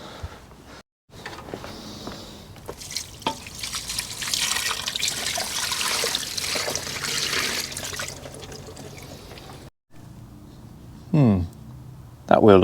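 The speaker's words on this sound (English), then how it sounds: "let's get some water and rinse this brake fluid off." Water trickles and splashes while rinsing brake fluid off a brake caliper on a high-mileage Audi A4 B5, a steady wash of liquid noise lasting several seconds, followed by short dripping bursts near the end.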